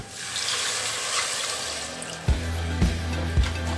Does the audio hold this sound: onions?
no